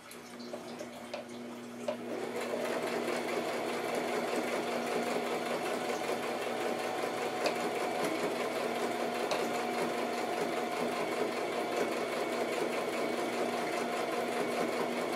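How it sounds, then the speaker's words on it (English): A sewing machine stitches handbag fabric right along the edge, starting after a brief quiet moment and then running as a steady, even mechanical whir close by, with no voices. "You're sewing right at the edge."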